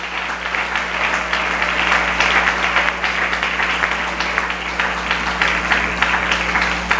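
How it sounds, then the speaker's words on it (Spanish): A church congregation during an evangelical service bursts into steady, loud applause that holds evenly for several seconds under a constant low hum, with no voices over it. "Denle ese aplauso fuerte, déselo fuerte"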